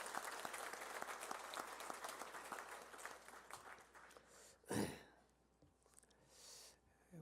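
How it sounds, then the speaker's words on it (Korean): A church congregation applauds a couple who are getting married on Saturday. The applause is dense and steady, then thins and fades, and a single louder burst of noise breaks through near the end. "예, 박수 한번 해줘요."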